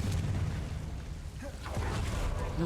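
A Confringo blasting spell goes off in Hogwarts Legacy, a booming burst over a rumbling game soundscape, with a second explosive hit following shortly after, moderately loud.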